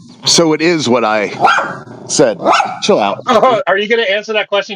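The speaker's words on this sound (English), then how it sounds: "That's the dog barking." A dog barks and yips several times close by while people talk over it in an online voice chat, the barks mixed into and partly masked by the speech.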